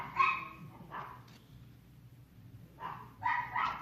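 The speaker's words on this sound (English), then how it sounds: "Sorry if you can hear my dogs in the background" Dogs bark a few times in the background, a couple of sharp yips near the start and a louder burst toward the end, fairly distant.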